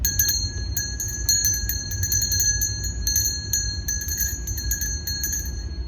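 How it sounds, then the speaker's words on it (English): A vintage unicorn bell rings with rapid repeated strikes, producing bright sustained metallic tones that shimmer and overlap, close and clear with no voices. "I'm gonna ring the unicorn bell."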